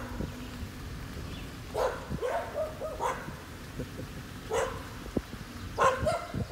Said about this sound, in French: le voisin qui est juste à côté avec ses nombreux chiens.